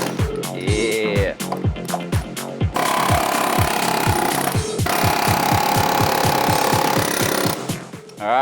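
A pneumatic air hammer pounds metal while working on a salvaged Toyota GR Supra, firing loud, close, rapid bursts of hammering that are briefly interrupted and then carry on almost continuously.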